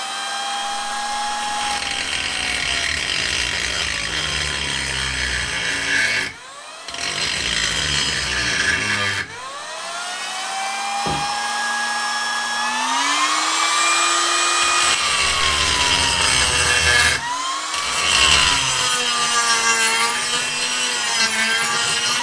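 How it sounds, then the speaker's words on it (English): A steady, continuous high-pitched grinding whine from a Parkside die grinder with a grinding stone, with pitch rising and dipping as pressure changes and a few brief pauses. "Let's clean it with the included grinding stone."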